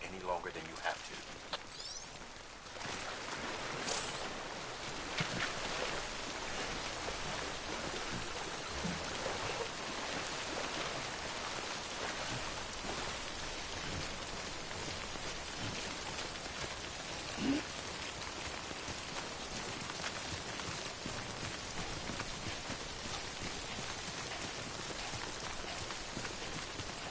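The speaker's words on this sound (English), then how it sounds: "Don't stay out in the rain any longer than you have to." Steady rain falls in the video game Death Stranding, a dense continuous hiss of drops that stays even throughout after a brief quieter start.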